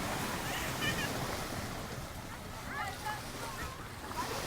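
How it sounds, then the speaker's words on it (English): Light wind and breaking waves at a beach on a breezy day form a steady washing rush, with faint chirps and distant activity in the background. "A little bit of wind, a little bit of waves."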